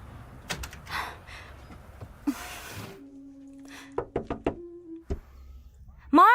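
Knocking on a door: a few separate raps mixed with thumps and other bangs, with a muffled voice heard briefly between them.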